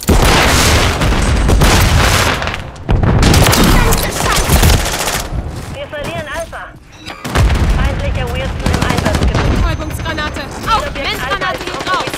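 A flashbang grenade goes off amid heavy gunfire in a Call of Duty: Modern Warfare 3 multiplayer match, loud bursts and booms crowding the mix while game voice callouts speak over the din.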